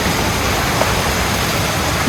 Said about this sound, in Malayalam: ഇവിടെ കണ്ടില്ലേ മഴയുണ്ട് വെള്ളം ഇതാ ഒഴുകിക്കൊണ്ടിരിക്കുന്ന അരുവി